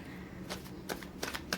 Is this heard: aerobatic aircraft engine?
no